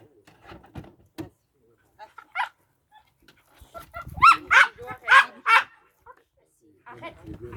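A dog leaving its transport cage gives a few sharp barks and whimpers, close and loud in short bursts, interspersed with quieter shuffling and people speaking French nearby.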